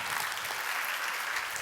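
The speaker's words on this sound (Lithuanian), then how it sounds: "Tai plojimai visiems dabar." An audience claps together at a school quiz event in Lithuania, a steady, dense wash of hands that fills the whole short stretch at an even level without any voices.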